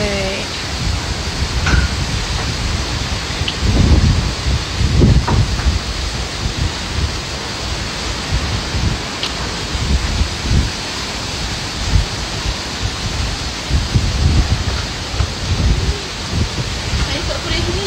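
Strong wind at Batu Feringgi beach roars steadily into the microphone, with heavy buffeting gusts swelling and fading over a constant rushing wash.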